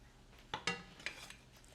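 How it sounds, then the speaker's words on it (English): A spoon scrapes and clinks against a pot while stirring rice on the stove, three or four quick sharp contacts close by and fairly faint, alone with no talking. "Give it a little stir."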